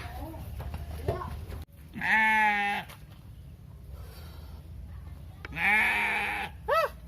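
Sheep bleating in a village setting, two loud, wavering cries a few seconds apart with a shorter third at the end, with people talking between them.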